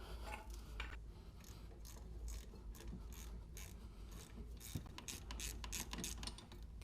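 A 17mm wrench turns a nut on the shaft of a performance coilover for a 2002-2006 MINI Cooper, giving a continuous quiet ratcheting, grinding mechanical rasp close by.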